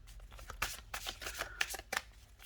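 A deck of tarot cards is shuffled by hand in a quiet room, giving soft, rapid riffling bursts and flutters repeated several times at close range.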